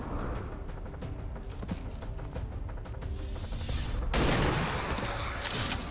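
Gunfire in the XCOM Long War 2 strategy game during a recovery operation, a busy stretch of overlapping shots and mechanical clatter, with a loud, bright burst near the end.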